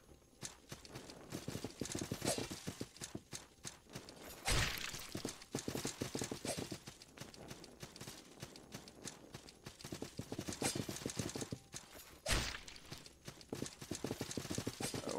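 Rapid clip-clop of horse hooves galloping in the Salt & Sanctuary video game, a dense steady pounding rhythm with two loud heavy impacts, likely kicks, standing out.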